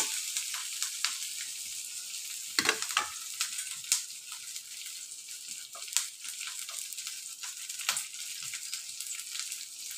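Onion frying in a pan while making jowar flour noodles, a steady close sizzle with occasional crackles and stirring scrapes, no talk.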